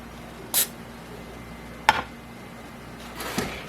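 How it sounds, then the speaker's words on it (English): A can of Pam cooking spray gives a short, sharp hiss up close in a kitchen, followed by a couple of light clicks and knocks against quiet room noise. "you guys seen me spray that Pam on there"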